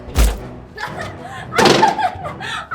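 A heavy door thud lands near the start, followed by people talking and a burst of laughter.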